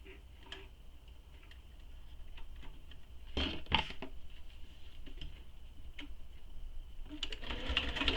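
A sewing machine back-stitches while making a tote bag, producing a soft, steady mechanical ticking and whirring that grows slightly busier toward the end, close and fairly quiet.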